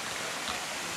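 Benarai waterfall pouring steadily, a dense, even rush of falling water that fills a brief moment with no other sounds.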